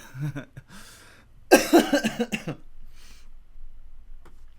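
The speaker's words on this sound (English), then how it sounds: "Sorry for the coughs." A burst of several harsh coughs in quick succession, close and loud, followed by quieter background noise.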